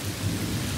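Rain pours during a thunderstorm, with a deep low rumble of thunder rolling beneath the dense hiss of falling water, loud and continuous for a brief moment with no voices.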